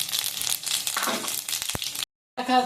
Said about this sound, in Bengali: তেলের মধ্যে পাঁচফোড়নটা দিয়ে দিলাম।